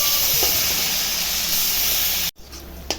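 Potatoes fry in hot oil with a bright, steady hissing sizzle that holds loud and constant. It cuts out sharply for a moment, then returns more faintly with a small pop. No voices.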